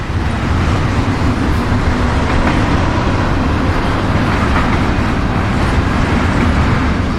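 Train I-144 rumbles steadily past a small Southern town on a foggy dawn after overnight thunderstorms, a loud, dense, continuous roar of engine and wheels close by with no voices.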